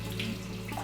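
Water runs from a tap for handwashing, a steady close splashing stream that stays even throughout the brief moment, with a faint hum beneath.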